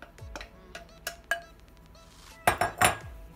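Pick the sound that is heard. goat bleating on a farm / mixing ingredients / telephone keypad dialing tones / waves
mixing ingredients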